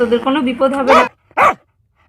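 A frightened cartoon dog gives a short bark or yelp near the end, after a spoken line, loud and close.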